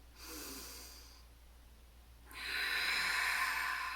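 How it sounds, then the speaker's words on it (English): Deep breathing during a guided breathing exercise: a slow inhale, a quiet pause, then a longer, louder breath, close and alone with no talk. "And again, we're going to breathe."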